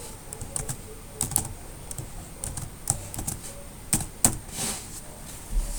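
JavaScript code is typed on a computer keyboard, with quiet irregular key clicks in short bursts and small pauses, heard close in a hushed room.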